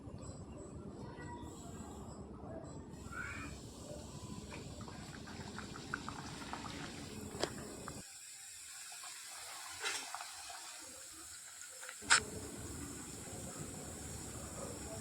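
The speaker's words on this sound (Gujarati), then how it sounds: "તો આ રીતે હું બીજી બધી જ ખારીને તળી દઈશ." Cumin khari pastries deep-fry in hot oil with a dense, steady bubbling sizzle up close; it cuts out for a few seconds, then returns with a brief clatter.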